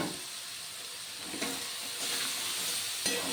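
Crab pieces fry in oil and spices for a Bengali crab curry, giving a steady close hiss of sizzling with a few soft stirring swells, and no voices.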